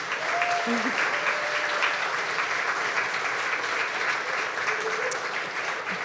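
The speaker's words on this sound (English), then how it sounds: "Let's give them all a round of applause again" Audience applause for four businesses at a community crowdfunding event, a sustained, dense wash of clapping from a full room that holds steady throughout.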